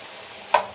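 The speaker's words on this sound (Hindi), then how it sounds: "अब देखें ये बड़ी अच्छी तरह से भून गया है" Chicken liver fries in a pan for a dhaba-style dish, a steady hiss of sizzling oil with a brief sharper crackle of stirring midway.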